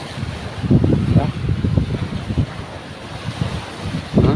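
Big, rough ocean waves churning and crashing near a boat on the shore, mixed with heavy wind buffeting the microphone and a voice talking underneath.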